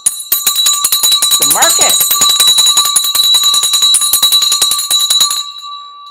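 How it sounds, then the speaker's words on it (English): A stock market closing bell rings loudly and continuously for about five seconds, a fast metallic clatter with a sustained tone, then stops. A voice is heard briefly near the middle. "It's leading up to the bell."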